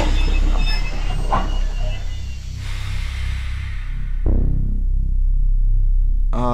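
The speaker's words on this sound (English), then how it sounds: "Train has stopped. Home at last. Train is stopping" A train in the video game Train Song rolls to a halt at a station. A loud rumble of wheels carries high, thin brake squeals, then drops away into a low idling hum before a final squeal at the end.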